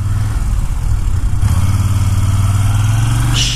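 A motorcycle engine idles steadily on a hill, a continuous low rumble held close and loud with no talk over it.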